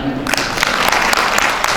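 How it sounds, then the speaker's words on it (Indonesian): An audience at an anniversary event applauds with dense, steady clapping that fills the moment at close range, loud and continuous without a break. "Luar biasa, tepuk tangan dong."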